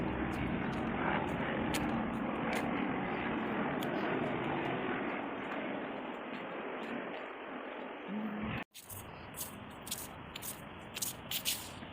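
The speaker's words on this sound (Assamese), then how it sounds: "ফ্লাইট আহি আছে" Aircraft engine noise over Dubai among tall hotel buildings, a broad steady roar lasting most of the clip before cutting off briefly, then lighter outdoor background with faint sounds.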